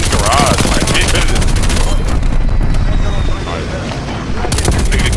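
Sniper and other gunfire in the video game Black Ops Cold War, loud and nearly continuous with rapid rattling bursts and heavy booms, dipping briefly before picking back up, with voices talking over it.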